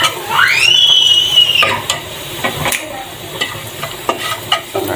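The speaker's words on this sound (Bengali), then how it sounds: "পেঁয়াজটা আমি লাল লাল করে ভেজে নিচ্ছি," Onions sizzle as they fry in a pan until browned, with scraping stirring strokes and a short squeal near the start, close and moderately loud with no talking.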